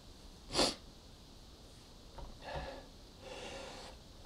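A person sneezing during a Harry Potter years 1-4 DS game walkthrough, one sharp close sneeze followed by softer sniffs and breathy snorts, with no other sound around them.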